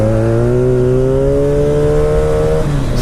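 A Honda Magna Legend motorcycle engine pulls steadily up a hill, its rising harmonic drone climbing in pitch as the rider accelerates. The engine note is loud and close throughout, with no talking.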